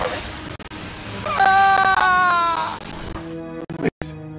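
A character in a Star Wars: The Old Republic Sith Inquisitor prologue on Korriban screams in pain under torture, a loud drawn-out wavering cry rising mid-clip, followed by short gasps and fragments.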